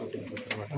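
Pigeons from a prized breeder's rooftop loft coo softly in a brief low murmur, with faint background sounds around them.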